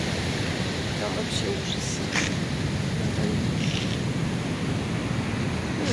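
Stormy sea surf on the Sochi coast near Sirius, a steady loud roar of breaking waves and wind rushing against the microphone, with someone speaking briefly over it.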